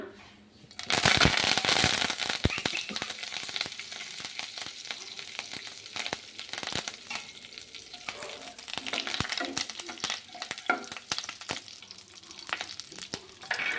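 Curry leaves hit hot oil for tomato chutney: a sudden loud hiss and crackle that settles into a busy, uneven sizzle with scattered sharp pops and occasional stirring scrapes, close by.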